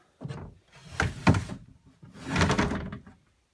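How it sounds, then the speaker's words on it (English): Cabinet doors inside a bus converted into an off-grid tiny home slide open and shut, producing three rolling, rumbling strokes with soft knocks, close and clear with nothing else heard. "The cabinets we kind of changed up, made them all sliding doors."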